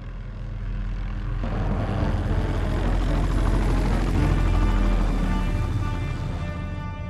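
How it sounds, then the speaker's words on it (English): A rescue helicopter approaches in the mountains of Aconcagua, its engine and rotor making a loud, steady, swelling drone with no voices. "It's a helicopter. It's the sound of a helicopter."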